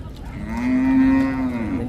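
A single long, full-throated moo from a cow at Hazratpur cattle market near Dhaka swells and fades over about two seconds, close and clear with little else around it.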